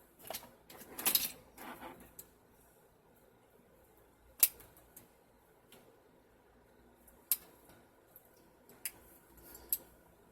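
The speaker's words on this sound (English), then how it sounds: "So let me cut some of these in half." Scissors cutting pipe cleaners in half during a deco mesh candle ring craft, a few rustling snips early followed by sparse, crisp single clicks spaced several seconds apart, quiet and close.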